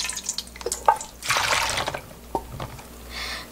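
Plum syrup from last year's batch strained off the pits and skins, dripping and trickling into a jar in short irregular drips and splashes, close and fairly quiet with no talk.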